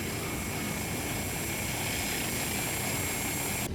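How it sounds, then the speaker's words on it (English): Fokker 50 right-hand turboprop engine starting in a flight simulator game, a loud continuous broadband roar and whine holding steady throughout, then cutting off abruptly at the end. "We are starting the right-hand engine."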